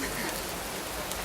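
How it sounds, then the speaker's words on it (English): Rain shower on Phi Phi Island, Thailand, a brief, steady hiss of falling rain pattering on surfaces, close and even. "So we are experiencing a rain shower For the first time."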